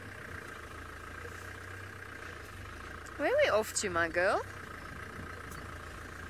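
Safari vehicle engine idling with a low steady rumble throughout, briefly overlaid by a person speaking in the middle.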